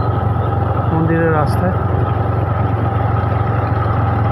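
A motorcycle runs along a rural road toward a temple, its engine a steady low drone heard up close while someone speaks briefly over it.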